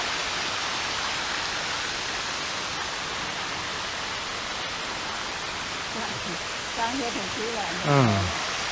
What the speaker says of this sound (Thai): ที่นี่น่ะเขาจะให้สมญานามว่า น้ำตกหน้าผี